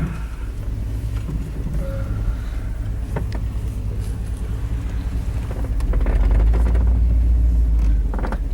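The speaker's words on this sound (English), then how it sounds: "Now we're four-wheeling." Four-wheel-drive vehicle rumbles along an off-road track toward a hillside cabin site, its engine and bumping drone steady and loud, swelling heavier near the end.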